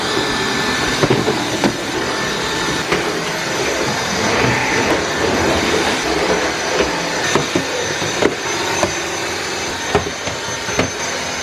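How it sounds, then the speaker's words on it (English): A vacuum cleaner runs steadily in a guest room, a continuous close whooshing drone broken by small bumps and knocks as it is pushed around. "I'm just gonna vacuum up here and call it done."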